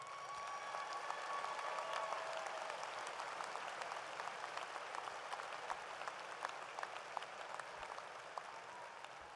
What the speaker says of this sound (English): how about a nice round of applause for your parents?